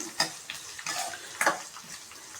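Chopped onions frying toward golden in a pan for tomato chutney, a quiet bubbling sizzle with a few light scraping stirs and taps, close by and fairly faint, with no voices.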